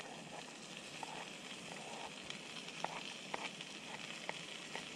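Onions fry in a pan with a steady, bright sizzle and scattered small pops and crackles, heard close and alone at a moderate level.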